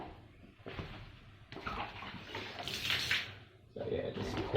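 Liquid sealer poured onto exposed concrete during a toilet renovation, splashing and gurgling in uneven bursts, with someone talking over it.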